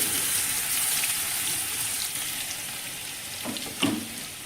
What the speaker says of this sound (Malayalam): ചൂടായ ഓയിലിലേക്ക് ഒരു ടേബിൾ സ്പൂൺ ചോപ്പ് ചെയ്ത വെളുത്തുള്ളി